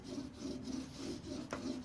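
A chisel edge being sharpened on a sharpening stone, a close, continuous rasping scrape in rhythmic back-and-forth strokes, with one brief knock partway through.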